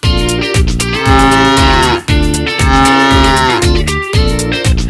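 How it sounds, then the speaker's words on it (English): A cow moos loudly and repeatedly in long drawn-out calls over a steady rhythmic musical backing, the bellows rising and falling in pitch up close. "Now let's see what the cow says. The cow says moo moo."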